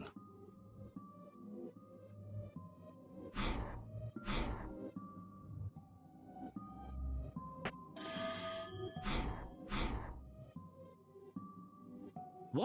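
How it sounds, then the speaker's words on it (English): An old-style telephone bell on a teletrophone prototype inside the There Is No Game puzzle game rings in two paired bursts, separated by a high electric crackle, over a quiet musical game background with gasps and sighs. "What was that sound like a ringing bell? I think it came from this odd device."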